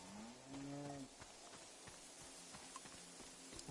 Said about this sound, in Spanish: El mejor mugido.